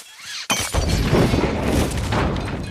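A sudden loud bomb blast in an action film hits after a quiet moment, followed by a sustained roaring rumble with crackling debris that lingers at high level.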